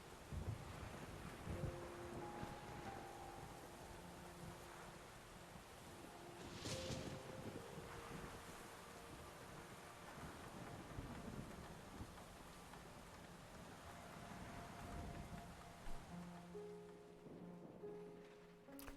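Steady rain in the Mafia II video game, a continuous wash of hiss with a soft rumble below and faint musical tones, constant and fairly quiet throughout with no talk.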